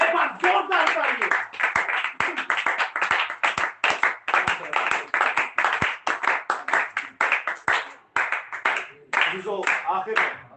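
A church congregation claps loudly in fast, rhythmic unison, each sharp hand strike clearly separated, while voices sing or call out over the beat.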